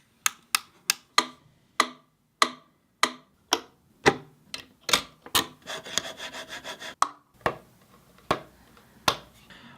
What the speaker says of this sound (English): I achieved a kick sound just from tapping around the actual kind of shell of the metronome